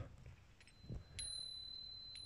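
A small bell named Jan, from Zakopane, rings softly. After some faint handling knocks, a single quiet strike is followed by a thin, steady ring that hangs faintly until the end.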